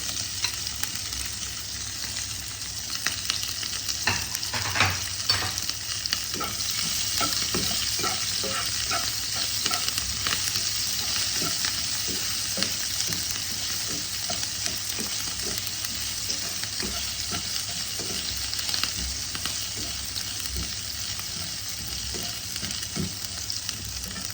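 Chopped ginger and green chilli fry in a pan for a samosa filling: a steady close sizzle runs throughout, with frequent stirring scrapes and taps and no voices.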